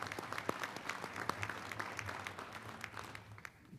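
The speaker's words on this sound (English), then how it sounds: "please give Kane Farabaugh a round of applause" Audience applauding the master of ceremonies at a high school Hall of Fame induction ceremony, a steady patter of many hands clapping at moderate distance that holds for the whole stretch, slightly thinning toward the end.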